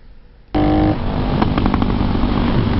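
A Honda Win100 moped with a carburetor starts up abruptly and settles into a loud, close, steady engine idle, its rattling exhaust note running continuously without any speech.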